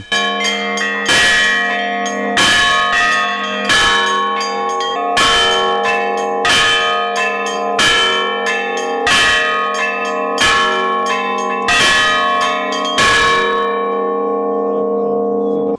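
A bell ringer at a bell-ringers' festival in Lutsk rings church bells in a steady repeating pattern, with about ten loud, clear strikes roughly every second and a half, each leaving a long ringing tone.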